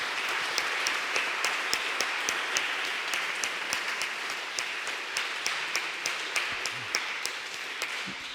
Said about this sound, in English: a big round of applause for Gerd